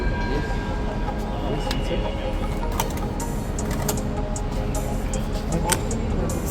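An Indonesian high-speed train pulling out of a station, heard as a steady, loud rolling rumble with a continuous mechanical drone and faint higher squeals.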